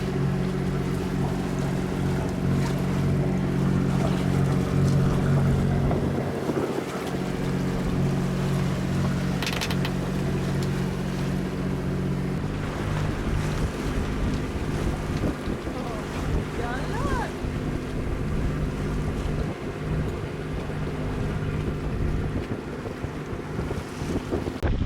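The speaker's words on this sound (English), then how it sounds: "we motored out and motor sailed a little bit" The sailing yacht Schiehallion motors through open-sea waves with a steady engine drone. Water rushes and slaps around the hull, and heavy wind buffets the microphone throughout.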